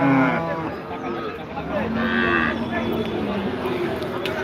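Cattle at the Betaga live cattle market in Fakirhat give long, deep moos close by, one call after another over a busy crowd murmur.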